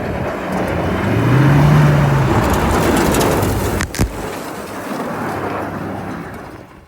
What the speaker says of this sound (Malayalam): ഞങ്ങളുടെ വണ്ടി ഡ്രിഫ്റ്റ് ചെയ്ത വീഡിയോ ആണ് കേട്ടോ ഇപ്പോൾ കാണിച്ചത്